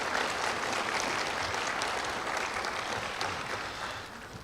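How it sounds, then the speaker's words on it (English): Audience at a Hall of Fame ceremony clapping in a sustained round of applause, moderately distant and fairly faint, slowly tapering toward the end. "Please join me in a round of applause for those members who have given up their time."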